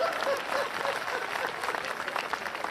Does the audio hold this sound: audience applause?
yes